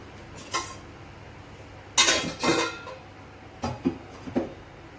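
Metal kitchen pots, a kadai and utensils being set in place in a home kitchen, a few separate clattering clanks with quiet gaps between them, close and fairly loud.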